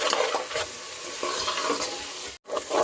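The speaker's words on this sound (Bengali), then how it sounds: "চাউল ভাজা হয়ে গেছে" Washed rice fries in spiced oil for a beef tehari, a continuous close sizzle with repeated scraping strokes of a spoon stirring the pot and a brief pause near the end.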